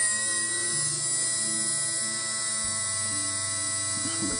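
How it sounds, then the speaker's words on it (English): A Dremel rotary tool whines continuously at high speed as it cuts into a circuit board, loud and close, with its pitch dipping slightly under load partway through. "So, out with the Dremel as usual,"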